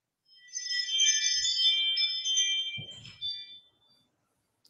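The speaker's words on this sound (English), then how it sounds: "That's his ring on his phone." A phone ringtone plays alone as a bright, clear electronic melody of sustained chiming tones, lasting a few seconds and followed by a short thump.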